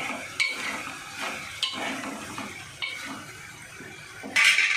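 Oil sizzles and spits in a hot pan. Several sharp clinks of a metal spoon against the pan punctuate the sizzle, with a brighter burst of hiss near the end.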